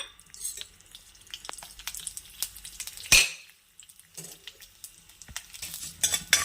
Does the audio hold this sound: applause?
no